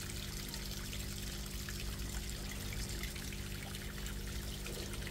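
Oil poured over Black Sea mackerel on a baking tray for a Lipovan recipe, a steady soft trickle running unbroken for several seconds, fairly quiet against a faint kitchen background with no talking.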